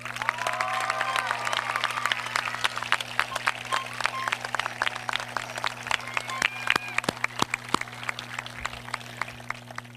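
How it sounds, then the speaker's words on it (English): Audience at an outdoor high school graduation ceremony applauds, dense sustained clapping from a large crowd with scattered sharp claps, gradually thinning toward the end. "Let's give them a round of applause."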